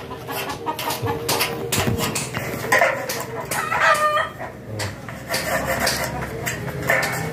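A rooster crows loudly and close, with repeated clucking and other fowl calls over a busy, noisy background while people talk nearby.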